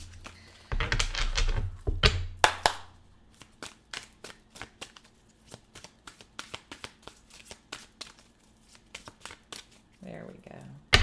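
Tarot cards are shuffled and handled close by, first as a dense riffling flutter and then as a long run of crisp, irregular card taps and flicks, with a voice speaking briefly near the start.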